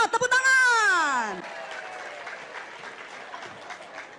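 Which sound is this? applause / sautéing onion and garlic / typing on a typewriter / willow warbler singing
applause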